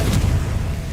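A Confringo blasting spell explodes in Hogwarts Legacy, a loud, close, continuous low boom that rumbles heavily throughout the short moment without any voices.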